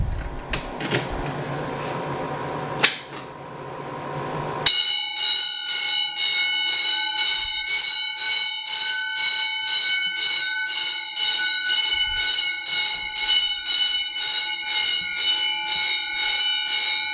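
Fire alarm bells switching from a brief continuous ring into march-time pulsing, a loud, bright, rapid on-off clanging that repeats steadily close by.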